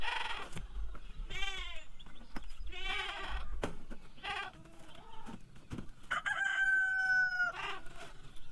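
Roosters crow repeatedly in a farmyard at morning feeding time, several long cock-a-doodle-doo calls spaced across the stretch, mixed with goat-like bleats and occasional clucking, fairly close but moderately quiet.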